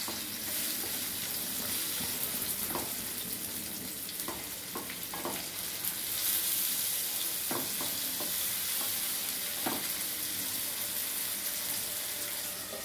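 Tomato pieces frying and stewing in a pan for a drumstick and raw mango curry: a constant close sizzle with occasional clinks and scrapes of stirring.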